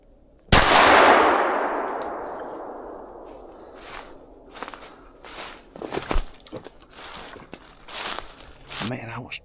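A single loud blast from an old 16 gauge single-shot shotgun fired at a squirrel, sharp onset followed by a long decaying echo, then light rustling and footsteps.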